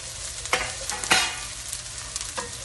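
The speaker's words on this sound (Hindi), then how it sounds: "पाव भाजी के लिए प्याज और लहसुन को भून लिया" Onion, garlic and cauliflower sizzle steadily in a pan for pav bhaji, with a few soft scrapes of stirring breaking through the close, even frying hiss.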